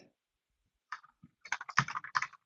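Typing on a computer keyboard, a burst of quick uneven key clicks after a brief silence, close and alone with no talking.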